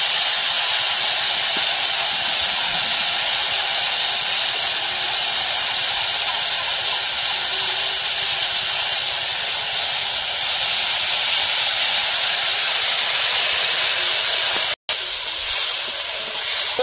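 Tamarind sour water poured into a hot pan, a loud, steady, broad hiss and sizzle that carries on unbroken, heard close with a brief dropout near the end.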